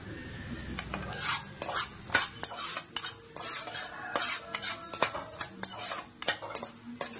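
Prawns fry in a pan while a metal spoon scrapes and clatters against it in quick, uneven bursts of stirring. A light sizzle sits underneath, up close, with no voices.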